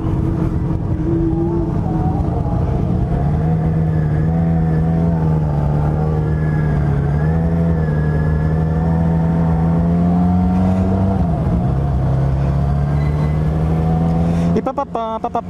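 A Yamaha XJ motorcycle cruising on a road, its engine droning steadily and close for the whole ride with small shifts in pitch, under wind rush, then a brief burst of buffeting near the end.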